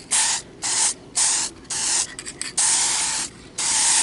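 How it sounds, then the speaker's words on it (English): Aerosol can of adhesive promoter sprayed onto taped, sanded 2004 Toyota Sequoia side mirrors, heard as six loud, close bursts of hissing spray separated by short pauses, with no talking. "Getting ready to hit them with the adhesive promoter."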